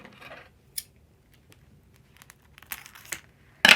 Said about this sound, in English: Hold on, let me trim it.